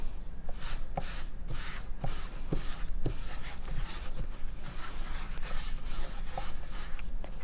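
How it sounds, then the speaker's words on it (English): A paper towel rubs back and forth over wet paint on pallet wood in a steady scrubbing rhythm, close and fairly loud, with no talk. "now I take my paper towel and just rub"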